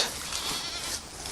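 A goat bleating at an animal rehabilitation center in Belize, one drawn-out, wavering cry heard fairly close and alone.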